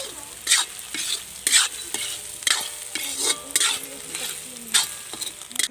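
Drumstick seeds fry and are stirred in a pan for a village-style chutney, with repeated scraping strokes over a steady close sizzle and no talk.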